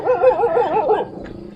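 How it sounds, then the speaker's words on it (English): A dog barks and yips in a quick run of about five rising, whiny barks, fairly close and loud outdoors at a neighbouring property, trailing off into quiet. "Hey, who are you barking at?"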